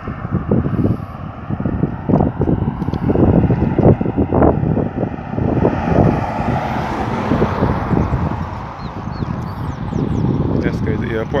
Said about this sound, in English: This is the Grantley Adams International Airport.